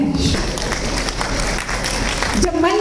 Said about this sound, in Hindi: तालियों की गड़गड़ाहट जरा जोरदार निकलनी चाहिए और आप सबके हाथ से निकलनी चाहिए